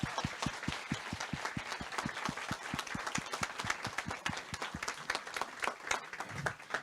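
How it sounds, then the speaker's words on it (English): A conference audience applauds a Q&A panel, with one close, rhythmic clapper standing out in front of a lighter crowd, the clapping continuing steadily and then loosening near the end. "Can we give a round of applause to the panel, please?"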